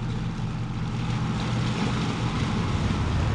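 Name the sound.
ferry boat idling in gear at the slip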